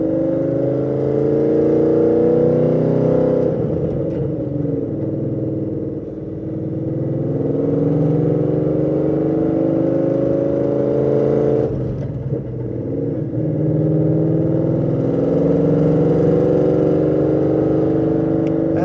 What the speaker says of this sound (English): I'm letting the clutch out in first gear. Off we go.